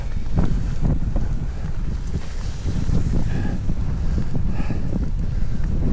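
Strong wind buffets the microphone during a mountain bike ride on countryside trails between Godewaersvelde and Poperinge, loud continuous low rumbling gusts with no talk.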